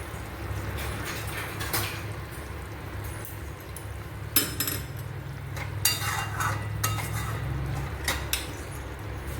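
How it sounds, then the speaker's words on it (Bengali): Cooked kakrol (spiny gourd) vegetable curry being poured from a pan onto a plate with the gas turned off, heard as scattered light clinks and scrapes of utensils and dishes over a low room hum. "গ্যাস অফ করে আমি এবার একটা প্লেটে ঢেলে রাখছি।"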